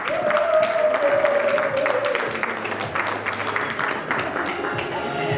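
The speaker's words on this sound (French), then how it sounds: "applaudissons tous ensemble pour les mamans Bondeko Femme" Audience applause for the Bondeko Femme mothers at a Congolese community Thanksgiving celebration in northern Kentucky: sustained crowd clapping with voices, cheering and a drawn-out tone over it, loud and steady throughout.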